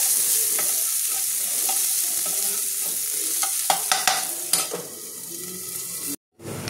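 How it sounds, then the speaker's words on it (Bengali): Chopped onions fry in a pan with a dense, continuous sizzle. Several sharp stirring scrapes cut in toward the end, close and fairly loud, with no talking. "পেঁয়াজটা একটু হালকা লাল ভাজা হবে, একটু লাল হালকা লাল ভেজে নেবো পেঁয়াজটা"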